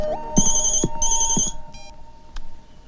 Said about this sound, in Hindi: माया का फोन है।